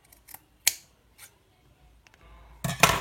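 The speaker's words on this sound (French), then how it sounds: "il me faut des bons ciseaux pour couper tout ça" Scissors cut through fabric for a washable paper-towel sewing project, with a few sharp, separate snips followed by a longer, louder run of cutting at the end, close and without talk.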